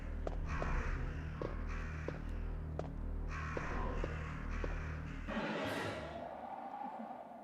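Crows caw repeatedly in the Resident Evil Director's Cut video game, harsh calls in a steady rhythm over a low droning game background that cuts to a brighter rush near the end.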